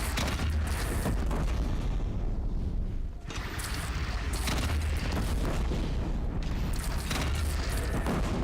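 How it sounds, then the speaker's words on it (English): A cannon fires in the Horizon Zero Dawn video game, loud continuous booming and blasts filling the scene, with a brief dip before the barrage resumes. "They only have one cannon! Yeah, but it's a good one."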